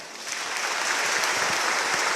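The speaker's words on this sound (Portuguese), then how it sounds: "Uma salva de palmas" Congregation in a parish church applauding during a novena Mass for Saint John the Baptist, a steady dense wash of many hands clapping, fairly loud and continuous throughout, with no talking over it.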